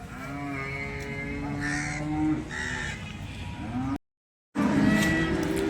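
Cows low repeatedly at a cattle market in Sangola, long drawn moos overlapping close by, with a crow cawing in the background and a brief silent gap before more mooing.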